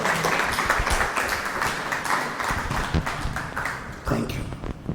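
An audience at a Christian retreat in Changanassery claps together in praise, a sustained, fairly loud and even patter of many hands lasting throughout, with some voices mixed in.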